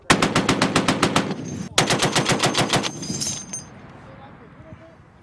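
Marines fire a .50 cal machine gun in Afghanistan: two rapid bursts of heavy, evenly spaced shots, loud and close, separated by a brief pause, then echoing away into quiet.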